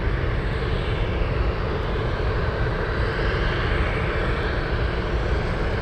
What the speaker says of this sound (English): We have the 767 racing down the taxiway